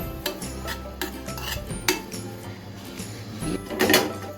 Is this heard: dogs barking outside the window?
no